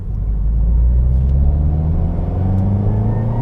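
The twincharged Subaru WRX engine holds a low rev of about 1500 RPM, a steady, loud, deep rumble with a droning hum and no talking over it.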